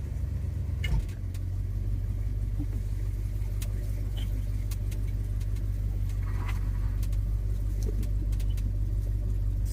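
A 1976 Ford F-150 Ranger truck engine starts with a brief catch, then runs steadily at a low, even idle close by, continuous and loud throughout.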